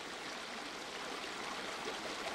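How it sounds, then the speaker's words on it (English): River current rushes over a rock bar at low tide, a steady unbroken wash of flowing water heard from nearby, fairly soft and even throughout. "On the low tide, the current flowing over the rock bar presents a challenge."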